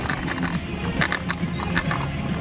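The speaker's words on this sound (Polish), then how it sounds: "ty już na koniu potrafisz jeździć" Horse hooves clip-clop in a quick, steady rhythm while the horse is ridden on holiday at Jastrzębia Góra, close and fairly loud, with a brief snort or whinny mixed in.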